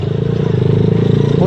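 A 70cc motorbike with a loud aftermarket exhaust runs close by, giving a steady, rapid low-pitched engine putter that holds evenly throughout, with no speech over it.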